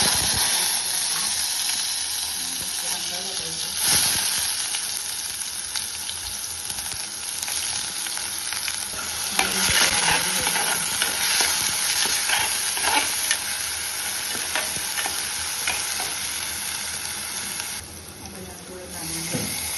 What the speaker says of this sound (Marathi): ते पण छान लालसर भाजून घ्यायचं